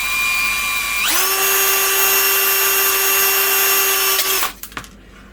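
Power drill whining steadily as it bores through the brass of a quarter light window frame, spinning up sharply then cutting for a few seconds before stopping with a clatter; close and loud.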